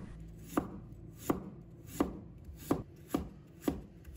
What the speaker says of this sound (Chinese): 再准备1块去皮的生姜，把它切成片。